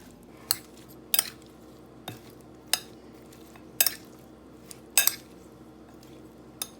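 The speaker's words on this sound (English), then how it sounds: "Then mix properly." A cucumber and king prawn salad being mixed in a bowl, with utensils clinking and knocking against the dish in about ten separate sharp taps spread unevenly, close and clear with no talk.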